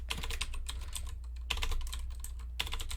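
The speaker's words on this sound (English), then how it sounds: "oh my gosh, I can't type." Quick, steady typing on a computer keyboard clatters close up in dense bursts, with two brief pauses, over a constant low hum and no talking.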